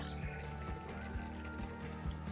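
Cornstarch slurry, half a cup each of cornstarch and water, pours into a pot of boiling white borscht with kielbasa, giving a steady close liquid pour over the low rolling bubble of the soup.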